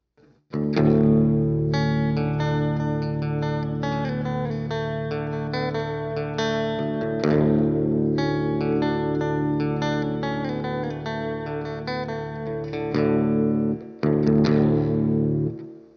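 Guitar played through a Boss reverb pedal set to emulate spring reverb, sustained chords ringing with a loud, steady wash of reverberation and short pauses between phrases, alone without talk.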